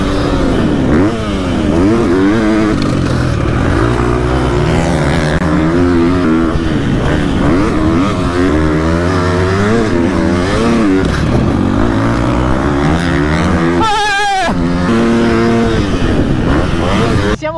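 Motocross motorcycle with a 250 engine revving close by, pitch rising and falling through repeated throttle blips, loud throughout with a sharp burst near the end.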